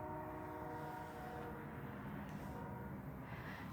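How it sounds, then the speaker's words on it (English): Train rolling past with a steady low rumble and a faint, sustained horn tone underneath, heard from some distance with no talk. "Yeah, so you hear this train's horn."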